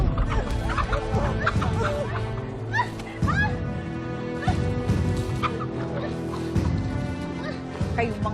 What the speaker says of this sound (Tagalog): Kayong mga manok kayo!